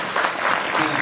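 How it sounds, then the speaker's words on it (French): A brief burst of dense, close audience applause fills a commemoration gathering, steady and unbroken for the whole second. "je demande aussi que vous l'applaudissiez."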